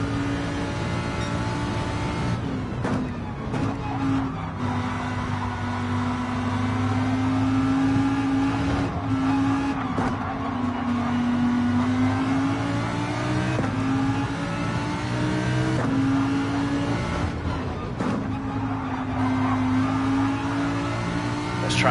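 Race cars drifting in Gran Turismo 7, engines droning and revving steadily with sustained tonal whine and brief tire scrub, continuous and fairly loud with no talking.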